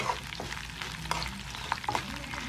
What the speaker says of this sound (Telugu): మంచిగా ఫ్రై అవ్వాలి.